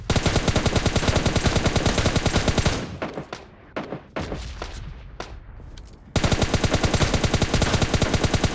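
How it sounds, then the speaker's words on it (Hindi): Gunfire from a PUBG-style battle royale game: long, loud bursts of rapid automatic shots, close and relentless, with a stretch of scattered single shots in between before the fast firing resumes. "मुझे और भी गन शॉट्स आ रही है"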